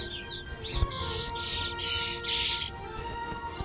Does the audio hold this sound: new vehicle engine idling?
no